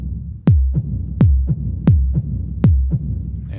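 A techno kick drum thumps four times with deep booming low end and a reverb tail, each hit followed by a softer echoing thud, close and prominent with nothing else playing.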